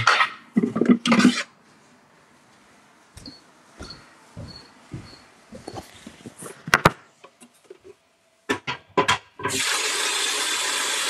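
A tap runs while water is added, with scattered clunks and splashes, ending in a steady, loud rush of running water.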